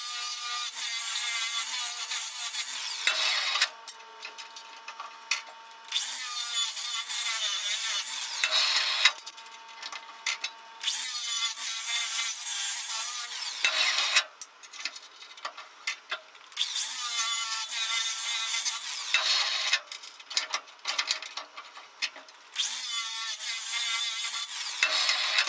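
A blade scrapes stickers off aluminum in repeated rasping bursts of a few seconds each, close and fairly bright, separated by short pauses, with no talk.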